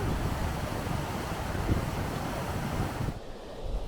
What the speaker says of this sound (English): the wind whipped up even more and the rain started